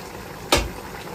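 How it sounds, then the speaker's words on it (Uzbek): Osh, a Uyghur pilaf, cooking in a lidded qozon cauldron, gives a single brief burst of bubbling hiss that lasts a fraction of a second amid near silence. "osh ovqatimiz pishish jarayonida."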